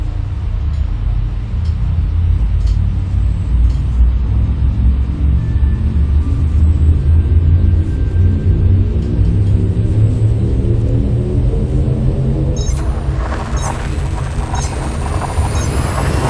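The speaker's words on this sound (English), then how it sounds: "Frameshift drive charging." A spaceship's frame shift drive charges in a space video game: a deep, loud rumble whose whirring tones climb steadily in pitch, then a bright rising whoosh near the end.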